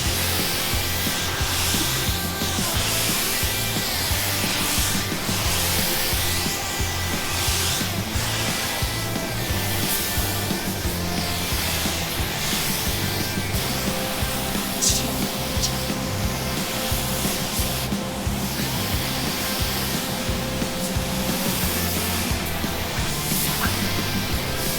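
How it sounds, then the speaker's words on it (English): Spray gun laying a coat of clear onto a car roof in a paint booth, a steady, loud broadband hiss with airy fluctuations running continuously throughout, with no talking. "here's some ASMR painting"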